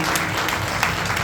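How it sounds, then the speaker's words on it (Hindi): Loud, dense clapping from a gathered audience at a Hindu Vishnu Purana religious discourse in Bhopal, a short burst of vigorous applause filling the room. "बजाइए जोरदार एक बार ताली"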